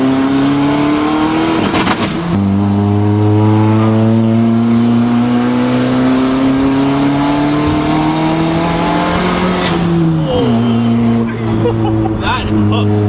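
A turbocharged Honda Civic 2.0 engine, an EG chassis build, pulls hard under 20-plus psi of boost, its rising drone climbing steadily, dropping at a shift and climbing again, loud and close, with people talking over it.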